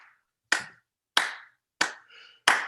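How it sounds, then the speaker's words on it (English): A single person claps four slow, sharp claps at an even pace, each crisp and close, with near silence between them. "That is my lovely round of applause for the NBA and the Marvel universe."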